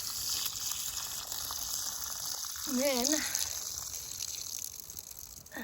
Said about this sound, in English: There's the water coming out.